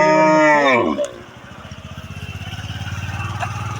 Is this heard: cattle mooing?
yes